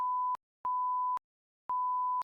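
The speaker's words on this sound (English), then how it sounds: "we'll beep out their names. So there's going to be 5 beeps." Censor bleeps masking names: three steady tones, each roughly half a second long, separated by short silences, loud and isolated with no talking.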